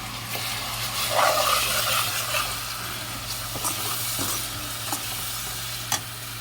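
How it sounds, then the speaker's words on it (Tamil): Ground coriander paste frying in a pan for coriander rice, a continuous close sizzle with occasional stirring scrapes and a low steady hum underneath, no voices. "இந்த மாதிரி வதங்கந்தோம் நம்ம அரைச்சி வச்சுக்கிற விழுதை இதில் போட்டுக்கலாம்"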